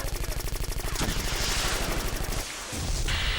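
Rapid automatic gunfire in the original Xbox shooter Black, a fast steady rattle of shots that fills the scene, briefly breaks off, then resumes with dense roaring battle noise.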